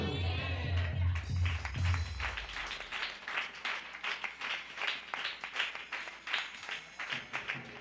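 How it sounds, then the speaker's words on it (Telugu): An audience at a special anointing worship service claps, a loose run of overlapping hand claps that keeps up in irregular bursts. It starts under a low hum and goes on for several seconds at a moderate distance. "చప్పట్లు కొడుతూ బాగా కొట్టారు."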